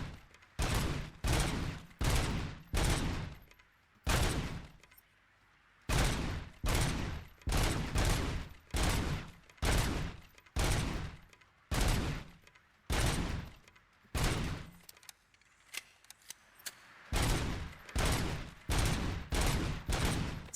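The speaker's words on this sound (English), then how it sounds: "the pistol shoots in a 3-shot burst" RoboCop's pistol in RoboCop: Rogue City firing a long series of loud, punchy three-round bursts, each burst quickly followed by the next in a steady rhythm, with short pauses now and then.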